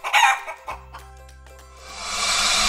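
A hen clucks and crows in an animated farmyard story about a ladybug, a loud burst of squawking calls up front, then a sustained bright, noisy tail that swells toward the end.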